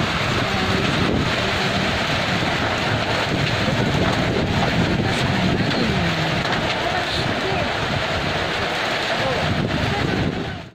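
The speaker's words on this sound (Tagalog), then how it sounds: "malakas ang hangin." Loud, buffeting wind roaring across the microphone on a corn farm after sudden afternoon rain, constant and gusty, with faint voices partly buried underneath.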